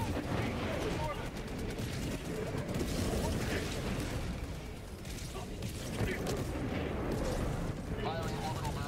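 An orbital barrage pounds the ground in a video game, a dense unbroken roar of heavy artillery blasts and rumbling impacts, with muffled voices faintly underneath.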